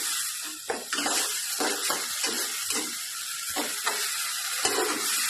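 Ground spice paste stirred into prawns in plenty of hot oil, a steady close sizzle with repeated scraping pulses from stirring.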